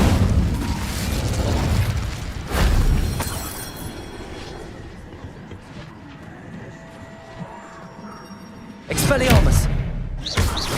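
In the video game Hogwarts Legacy, the Incendio fire spell is cast: booming, crackling bursts of flame erupt at the start, again a few seconds later and near the end, with quieter game sounds and voices between.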